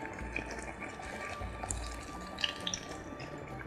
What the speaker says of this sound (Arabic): هزودها حبه ميه.